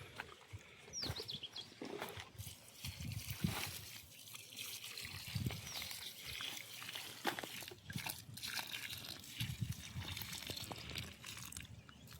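Irrigation water trickling and dribbling into freshly sown maize rows on a farm, an uneven, fairly quiet flow with small splashes and sloshes throughout.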